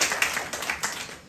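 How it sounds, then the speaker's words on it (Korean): Light, scattered clapping from an audience of about 300 at a poetry creative forum in Daejeon, a short patter of separate claps that fades after a second. "박수 한번 쳐주시고"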